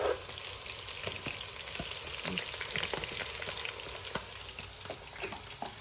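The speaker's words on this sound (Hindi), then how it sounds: "सारा मैं प्याज ऐड करूँगी और साथ साथ हल्का हल्का मैं चम्मच हिलाती जाऊँगी ताकि हमारा प्याज बराबर ब्राउन हो।" Onions fry in a pot for beef nihari, a steady oil sizzle with soft scrapes and clicks as a spoon stirs them slowly; close, moderate in level, with no talking.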